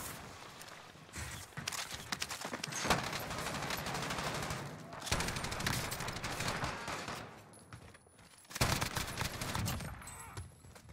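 Bursts of light machine gun fire in Call of Duty Warzone, with dense rapid volleys across most of the clip, brief lulls between them, and faint footsteps.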